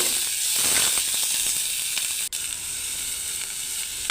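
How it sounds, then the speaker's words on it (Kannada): Mustard seeds, chana dal, urad dal, onion and green chili frying in oil for vegetable upma, a dense, steady hiss of sizzling close up with faint crackles and one brief clack near the middle. "ಕಡಲೆಬೇಳೆ ಉದ್ದಿನಬೇಳೆ ಹಾಗೆ ಸಾಸಿವೆಯನ್ನು ಈಗ ಹಾಕ್ತಾ ಇದ್ದೇನೆ ಸ್ವಲ್ಪ ಚಿಟಪಟ ಅಂತ ಅದಾದರೆ ಸಾಕು ಹಾಗೆ ಈರುಳ್ಳಿ ಹಾಗೆ ಮೆ ಹಸಿಮೆಣಸಿನ್ಕಾಯಿನೂ ಕೂಡ ಹಾಕಿ ಫ್ರೈ ಮಾಡ್ಕೊಳ್ತಿದ್ದೇನೆ"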